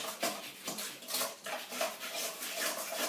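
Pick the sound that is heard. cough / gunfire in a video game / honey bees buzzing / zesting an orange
zesting an orange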